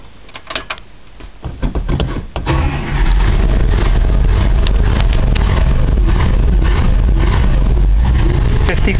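A 1955 Buick Century, left sitting in a garage since last year, cranks with uneven bursts for a couple of seconds, then catches and settles into a loud, continuous running engine with revving, close up, with some talk in the background.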